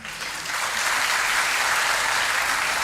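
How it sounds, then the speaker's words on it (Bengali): Steady applause from a lecture audience at Vidyamandira, a dense continuous patter of many hands clapping at moderate distance, sustained throughout without a break. "হাততালি দেওয়ার কিছু নেই, ওটা"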